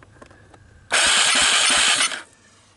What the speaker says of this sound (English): See the way it's kind of puffing back?